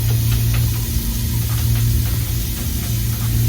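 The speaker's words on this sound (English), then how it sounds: "so I spray some Febreze." Febreze air freshener sprays in a steady continuous hiss lasting several seconds, loud and close, over a low background hum.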